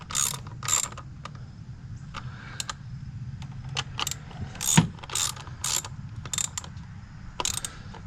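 A ratchet wrench works a spark plug on a Kia Soul, giving bursts of sharp metallic clicking in short irregular runs, close up, with a light clank midway and no talk.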